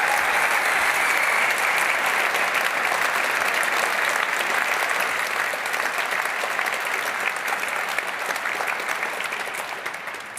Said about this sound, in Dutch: graag nog een fantastisch applaus voor Noah.